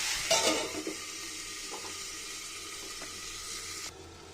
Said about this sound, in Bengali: কাঁচা লঙ্কা আর টমেটো। একটু একটু ভালো করে নাড়াচাড়া করে ভেজে নেব